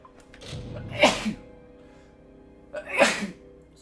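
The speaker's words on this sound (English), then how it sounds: "Sorry, I'm just sneezing." Two loud sneezes from a person, close up, each a sharp burst with a short lead-in breath, spaced about two seconds apart over a faint steady background tone.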